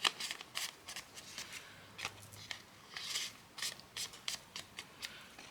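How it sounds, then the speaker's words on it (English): Flaps of a paper gift box are folded by hand, producing close, quiet crisp rustles and crinkles in short irregular bursts. "So fold in your little flaps like that."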